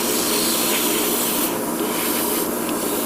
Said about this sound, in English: this is basically an airbrush that I will only use for